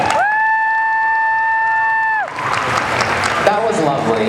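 Audience applause at an anime convention panel: after a sustained electronic tone cuts off, a room of people breaks into steady clapping with voices mixed in.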